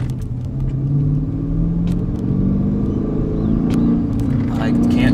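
A car engine pulls at high RPM, a loud sustained rumble with a rising, climbing tone, heard close up.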